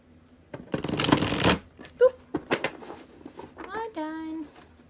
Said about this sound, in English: So now we'll do some tarot. Wow, that was the worst shuffle ever.